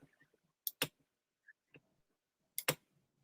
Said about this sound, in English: just don't keep clicking paper for a second